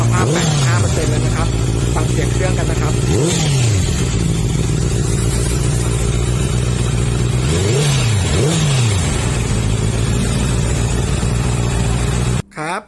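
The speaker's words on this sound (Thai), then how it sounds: "ฟังเสียงเครื่องยนต์นะครับ" A 2018 Honda CBR650R Furious Edition four-cylinder motorcycle idling steadily up close, blipped into several sharp revs that rise and fall quickly, in pairs around the third and eighth seconds, over a constant engine drone.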